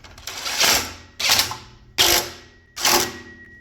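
Socket ratchet tightening bolts on a Honda Accord during O2 sensor work: four close, loud bursts of rapid metallic clicking, each a short run of pawl ticks, spaced evenly apart with brief pauses between.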